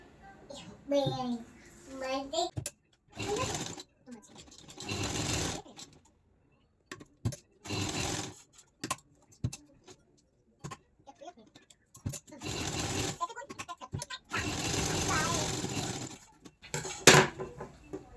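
A sewing machine stitches fabric for a canvas-backed neckline design. It runs in several separate bursts of steady whirring with pauses between them, and a person talks in between the runs.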